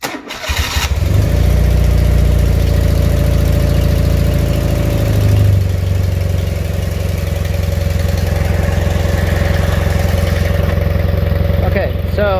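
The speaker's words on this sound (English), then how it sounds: "I'm going to go ahead and turn the key on. I'm going to try and do this without dropping everything. So let me get the bike running here." A motorcycle engine cranks and catches, then settles into a loud, steady close-up idle with a deep throbbing rumble that holds for the rest of the stretch.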